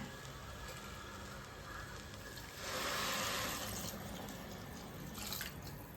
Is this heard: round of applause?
no